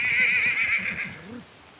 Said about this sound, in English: This is a unique breed of horse anyway, because they have very strong legs and don't need special feed.